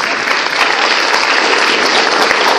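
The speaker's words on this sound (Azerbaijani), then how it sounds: "Alqışlayırıq bizim dəyərli qonaqlarımızı." Audience applause for guests at a musical-literary evening, a dense, steady clapping from a full hall that holds evenly loud throughout without a break.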